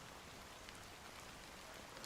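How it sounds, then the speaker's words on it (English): Game rain falls in a steady, faint hiss of dense drops, unbroken and even throughout, with no voices over it. "how long has this rain been going on for?"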